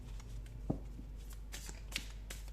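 Tarot cards shuffled and handled close up, soft papery riffles and rustles with two sharper snaps as single cards are drawn and turned over, no talking.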